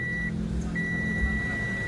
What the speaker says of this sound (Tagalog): may nakita ko dito na nag-buzzer na naman. So, ibig sabihin, may shorted na naman akong nakita